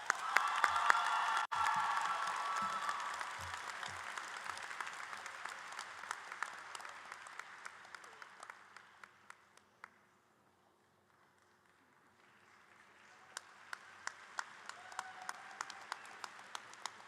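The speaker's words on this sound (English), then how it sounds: "Everyone give a big round of applause for him" Graduation crowd at a high school ceremony breaks into long, loud applause that fades out midway, then a quieter second round of clapping builds back up, with scattered sharp individual claps standing out near the end.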